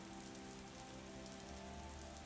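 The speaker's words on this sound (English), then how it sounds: "I want to get out of this rain." Steady rain falls on a surface in a dense, even hiss with constant patter, a quiet wash of drops throughout with no voices.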